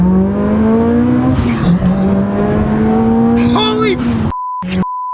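A Nissan Stagea 260RS engine drones loudly close by with a deep, truck-like tone, rising and shifting, while excited voices talk over it. It cuts off abruptly near the end, followed by short electronic beeps.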